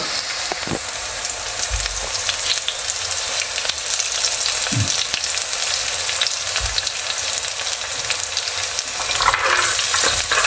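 Curry leaves hit a hot pan while a Kerala kurukku kaalan is being made, raising a constant loud sizzle close by with a few faint knocks of stirring and a brief flare of spitting near the end.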